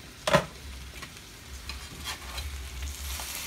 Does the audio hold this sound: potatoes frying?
yes